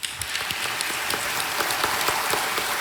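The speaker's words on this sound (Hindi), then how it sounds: "तालियां।" Studio audience of a televised quiz show applauding during a Diwali celebration episode, dense steady clapping that runs throughout without pause.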